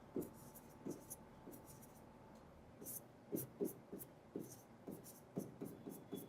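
Chalk or marker writing values on a classroom board during a chemistry lecture, a series of soft scratchy taps and strokes in an irregular rhythm, faint and close, no talking over it.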